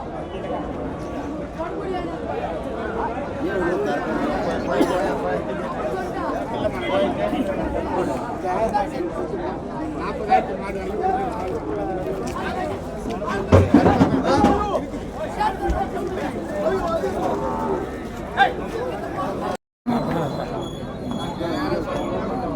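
A native cattle market at Vaniyambadi fills with a steady, loud babble of crowd chatter and nearby voices, with occasional knocks and clatters underneath.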